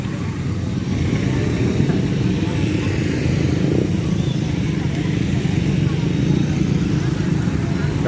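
Stalled cars and motorcycles idle on Jalan Raya Narogong, a main road blocked by a fallen tree after a whirlwind, a steady low engine rumble throughout with a voice talking over it.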